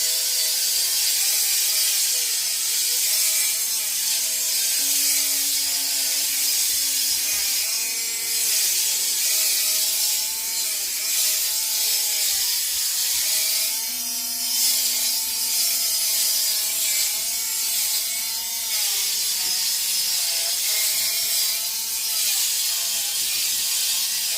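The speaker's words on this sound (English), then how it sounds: "So, it's taking a little longer because I'm only leaving the Dremel on for 2-3 seconds at a time." Dremel rotary tool grinding a dog's nails in short bursts of a few seconds, giving a close, steady whirring buzz with a scraping edge and shifting pitch as it contacts each nail.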